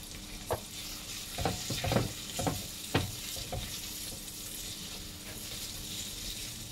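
Onions frying in a pan with salt, giving a low sizzle under a burst of close scraping and stirring clatter in the first few seconds, which then settles to a steady quiet fry with no talking.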